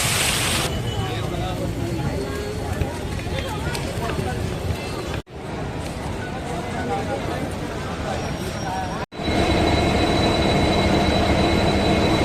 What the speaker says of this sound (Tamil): நம்மளுடைய ட்ரெயின் சேரன் எக்ஸ்பிரஸ் ரெடியாக இருக்குது.